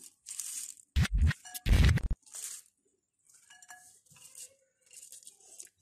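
Shredded cabbage drops into a bowl of pakora batter in close, crunchy bursts: a few moist, crackling plops and rustles, loudest in the first two seconds, then softer scattered squelches and taps.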